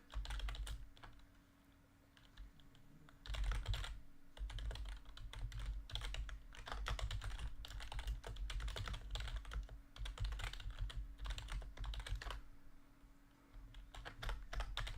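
Steady keyboard typing on a computer fills the stretch, with quick irregular key clicks in bursts over a low constant hum, fairly close and with no talking.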